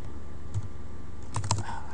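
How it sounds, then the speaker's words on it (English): Keys on a computer keyboard are tapped in a few quick, close clicks, a brief cluster near the end over a steady background hum. "I can't even type today."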